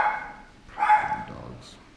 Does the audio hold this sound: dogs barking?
yes